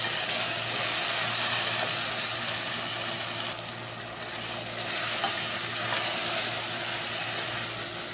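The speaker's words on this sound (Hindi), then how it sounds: "इसको हम दो मिनट भूनेंगे मसाले में इसको हमने अच्छी तरह से मिक्स किया" Potato pulao with masala being stirred and fried in a pan, a steady broadband sizzle with soft scraping from stirring throughout, dipping slightly midway.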